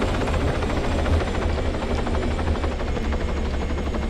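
Steady loud thrum of a helicopter in a video game, its rotor beating continuously and close by throughout, with no talk over it.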